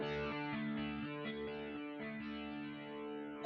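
Sustained distorted instrument chord runs through a gated reverb plugin preset, swelling with chorus-like shimmer and chopped tails that cut off abruptly, heard alone without speech.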